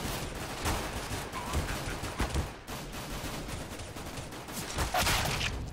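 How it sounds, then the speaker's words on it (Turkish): Rapid gunfire bursts from a Counter-Strike: Global Offensive match crackle in repeated volleys, loud and dense with short gaps, overlapping shots throughout and no speech. "Sıka sıka vuruyorlar ya."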